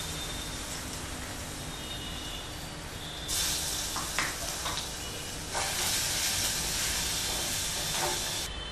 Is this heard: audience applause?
no